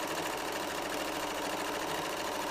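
A sewing machine runs steadily while piecing quilt blocks together with quarter-inch seams, giving a continuous close mechanical whir with no pauses or talk.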